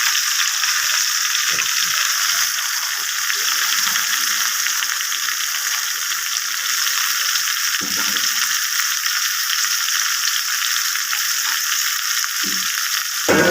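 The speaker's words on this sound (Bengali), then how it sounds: "বেগুনগুলো ভেজে নিচ্ছি" Eggplant slices, salted and coated with turmeric, frying in oil for methi saag, giving a loud, steady sizzle throughout with a few soft scrapes of stirring.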